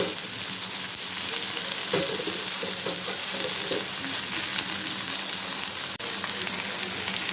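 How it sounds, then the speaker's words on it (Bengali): Okra and onion fry in a pan with a dense, steady, close sizzle, and light stirring scrapes sound under it, with no speech. "আমি ভেন্ডি ভাজিটা বসিয়ে দিব দিয়ে দিলাম পেঁয়াজ ভেন্ডিগুলো দিয়ে দিলাম"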